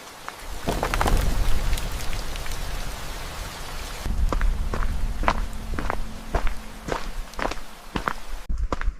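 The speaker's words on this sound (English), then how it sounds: "Rain." Rain pours down steadily at an outdoor campsite in bad weather, with scattered louder drops and taps striking nearby surfaces.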